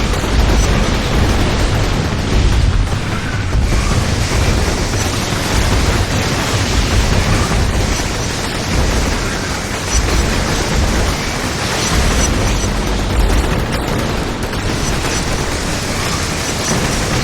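Grenades going off in a video game as a dense, continuous roar of blasts and rumbling debris, loud and sustained with no clear gaps between explosions, and no talk over it.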